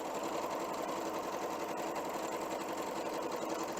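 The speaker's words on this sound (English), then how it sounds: "I'm going to start sewing a scant 1/4 of an inch down one side of both units" A sewing machine stitches quilt block units in a continuous chain, giving a steady, loud whirring drone with a fast mechanical rhythm that runs unbroken from start to finish.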